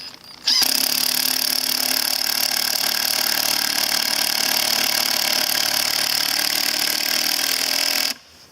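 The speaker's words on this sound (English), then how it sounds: "Now the 18 volt impact wrench by Hitachi." A Hitachi 18 volt 1/2-inch drive impact wrench runs in one loud, steady burst of about eight seconds, a continuous rattling hammer buzz that starts and stops abruptly.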